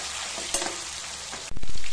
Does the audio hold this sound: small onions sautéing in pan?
yes